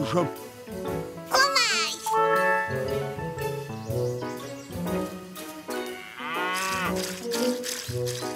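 A cartoon cow moos in a French-dubbed animated children's episode about milking a cow, the long wavering calls mixed with bright background music and jingly effects.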